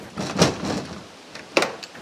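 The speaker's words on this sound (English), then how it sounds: "And I have a latch on our door." Metal latch on a wooden woodshed door at a cottage is worked, giving a couple of sharp clicks and knocks with some rattling handling noise in between.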